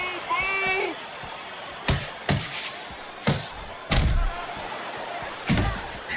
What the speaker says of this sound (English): He brings an uppercut that really does damage there